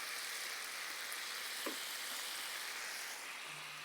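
Ginger garlic paste frying in a pan, a soft, even hiss of sizzling oil, fairly faint and constant throughout.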